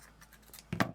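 A few quick, close snips of scissors cutting material while making a puppy dog pin, soft at first then sharper near the end, with no talking.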